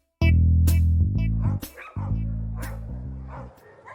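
A dog barks loudly and close by, giving several sharp yips and barks in quick succession with a brief whimper, then a fainter trailing bark.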